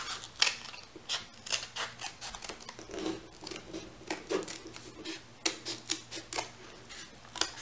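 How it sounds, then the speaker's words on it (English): Scissors snip steadily through a craft piece for a 3D piranha plant base and stem, cutting it down the center: rapid, evenly paced close crisp cuts with light rubbing between them, no talking. "you're going to take this whole piece and you're going to cut it down the center"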